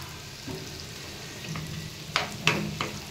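Beef with onion, garlic and ginger frying in a pan, a steady soft sizzle with a few sharper clinks and stirring scrapes toward the end, close and without talk.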